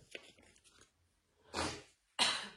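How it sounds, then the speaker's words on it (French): Two loud, close sniffs through the nose from a woman with a cold, each about half a second long and spaced apart, following a stretch of quiet, soft shuffling and breathy sounds. "je renifle, c'est pas joli"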